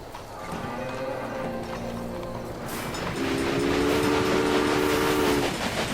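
A train in the Railway Empire video game rolls along with a steady rumble and clatter, then a sustained whistle tone sounds over the running noise.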